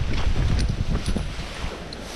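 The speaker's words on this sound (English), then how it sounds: "Man, it's windy." Strong wind buffets an outdoor microphone in gusty, low rumbling bursts, continuous and loud across the whole stretch with no talking.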